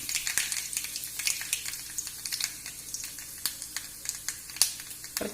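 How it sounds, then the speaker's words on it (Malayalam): Mustard seeds and a dried red chili in hot oil, a soft bed of frying with many quick, irregular pops and crackles. "കടുക് പൊട്ടി അതിലേക്കൊരു വറ്റൽമുളക് ഇട്ട് കൊടുക്കാം."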